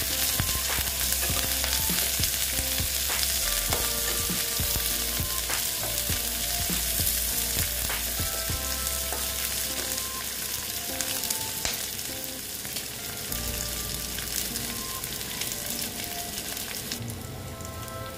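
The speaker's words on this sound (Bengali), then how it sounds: "পেঁয়াজটা দিয়ে ভালো মতন আমি পেঁয়াজটাকে ভেজে নিচ্ছি" Onions frying in a pan for a Bengali fish curry give a steady, close, crackling sizzle that runs without a break for the whole stretch, with occasional stirring scrapes and no talk.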